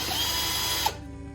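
A power drill bores a pilot hole into the body of a Jeep Gladiator, a steady close whirring grind for about a second before it stops abruptly with a brief mechanical clunk.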